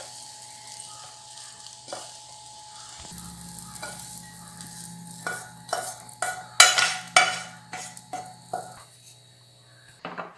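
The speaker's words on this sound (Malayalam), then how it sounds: "ഇത് നന്നായിട്ടൊന്ന് ഉടച്ച് എല്ലാം കൂടി ഒന്ന് യോജിപ്പിച്ച് കൊടുക്കാം" Ripe banana filling is mashed and stirred in a bowl for Kerala-style aval sukhiyan, starting quiet, then a run of wet, squelching scrapes and thumps of the utensil against the bowl, loudest in the middle.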